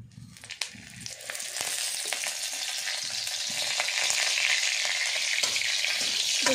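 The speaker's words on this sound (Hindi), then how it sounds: "अब हम डालेंगे सरसों का तेल," Mustard oil going into a hot pan in a village kitchen, a few clinks and spatters then a loud, steady sizzling hiss that builds and holds close by, no speech.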